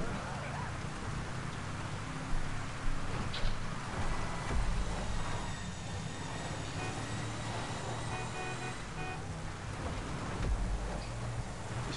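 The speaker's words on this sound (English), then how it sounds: "This rain's not helping, is it?" Steady rain hisses in a GTA racing game, a constant broadband wash mixed with car engine and road noise, with occasional bumps and someone talking over it.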